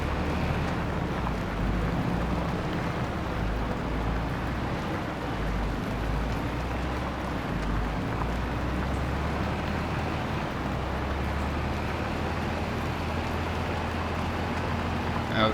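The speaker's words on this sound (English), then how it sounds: "My little runaround tractor for getting bits and pieces done." A small tractor drives in the Farming Simulator 25 video game, its engine a steady low drone with rumbling texture running evenly for about fifteen seconds, fairly loud and unaccompanied by talk.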